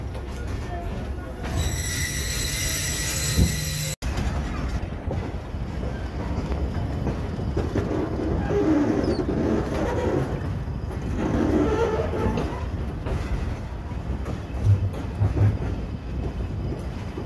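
The Kohat Express passenger train runs on the rails near Punjab's last station before KP, with a steady, loud rolling rumble and wind buffeting, plus a brief high tone early on.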